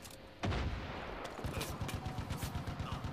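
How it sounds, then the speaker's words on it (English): Enemy machine gun fire in the video game Far Cry 5: after a single loud shot, rapid, evenly spaced bursts hammer on steadily at close range, with no voices. "Oh god, they have a machine gun there."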